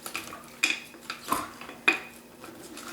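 A spoon clinks and scrapes against a jar or bowl while cucumbers are stirred into a refrigerator pickle mix, several distinct knocks spaced across a few seconds, close and fairly quiet.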